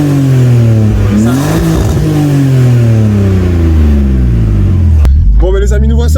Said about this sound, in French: Tu peux me donner un petit son d'échappement pour voir comment ça chante et tout?